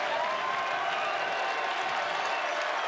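Crowd in a baseball stadium during an NCAA super regional game between Arizona and North Carolina, a steady roar of cheering and applause held at even loudness throughout without clear breaks.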